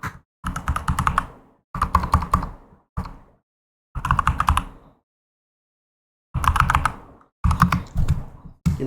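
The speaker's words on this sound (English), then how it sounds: "W keyboard ASMR." Someone types on a computer keyboard in close, crisp bursts of rapid clicking separated by short silent pauses, with no voices.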